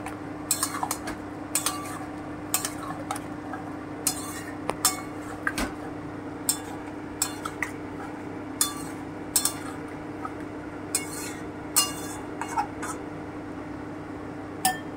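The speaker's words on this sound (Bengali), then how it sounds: "আমি এবার খুব ভালো করে একটু নেড়ে দিচ্ছি।" Food being stirred in a cooking pot with a metal utensil, giving repeated clinks and scrapes against the pot at an irregular rhythm, close and moderately loud over a low steady hum.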